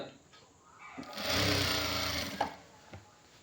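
Sewing machine stitching along the edge of a shirt's front placket: a close, steady mechanical whir that rises for about a second and a half, with a few clicks and short bursts around it.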